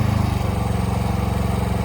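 The engine of a Kompak 52-foot boom lift idles with a steady low throb as it winds down toward a stop, loud and close with no speech.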